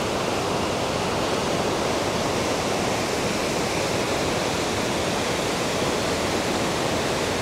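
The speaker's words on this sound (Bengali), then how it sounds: "এটা হচ্ছে পুরো 7 সিস্টার যে ওয়াটারফলস রয়েছে তারই জল" Water from the Seven Sisters waterfalls in Laitiam Village, Meghalaya, rushing steadily below, a loud, continuous broadband roar with no breaks and no voices.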